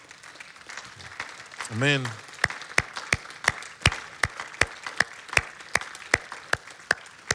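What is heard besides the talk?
church congregation applauding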